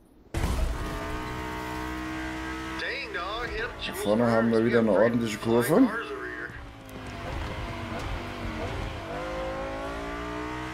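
An Audi V8 Spider in The Crew Motorfest races along with a sustained engine drone, revving up and shifting through a busy stretch, while someone talks over the car sound.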